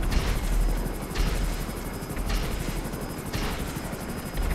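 Helicopter rotor in a military roleplay video game, a steady loud thumping drone with a faint high whine, with periodic swells in the chop as the aircraft flies continuously overhead.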